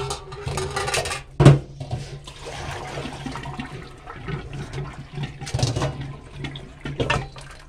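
Cooked yellow noodles being rinsed under running water in a kitchen, steady splashing flow with a louder gush near the start and later surges, no talking.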